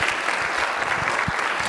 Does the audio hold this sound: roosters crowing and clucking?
no